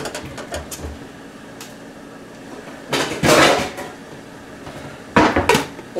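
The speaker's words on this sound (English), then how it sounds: "we'll put a lid on it" Metal lid clatters onto a pot of carrots in a kitchen, two loud close clanks with rattling after a stretch of quieter handling noises.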